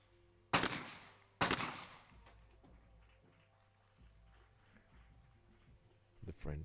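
Two loud, sharp shotgun blasts at a skeet shooting final of the European Championship in Leobersdorf, Austria, about a second apart, each followed by a long echoing decay, with a commentator speaking throughout and another burst near the end.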